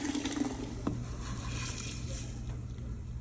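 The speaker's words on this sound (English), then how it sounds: "I am putting hot water in here halfway." Hot water runs from a kettle into a container, a soft continuous pour with a faint trickle and one small clink, heard close up in a quiet room.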